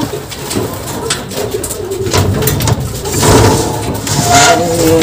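A racing pigeon just back from a long race across the sea coos softly in low, repeated rolling calls, close by amid steady outdoor noise and clatter.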